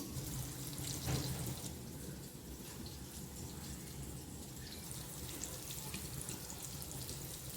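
Surmai fish steaks, marinated and dredged in flour, fry in a hot pan with a steady, dense sizzle and crackle that holds evenly throughout at moderate distance, with no talking.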